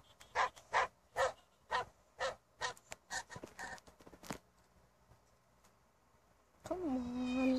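A bulldog barking in a video game, a quick series of about a dozen sharp yelping barks close up, then a whining cry at the end.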